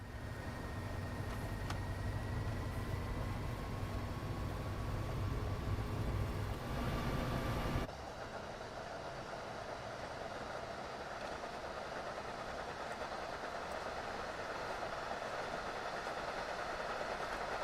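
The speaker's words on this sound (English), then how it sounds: "the carriages on this one have got wheel sounds and bogie sounds" Train carriage wheels and bogies rolling in Train Sim World 2 on a Boston line, a steady rumbling run with a high whine in the first half, then a broader, rougher roar after a sudden change partway through.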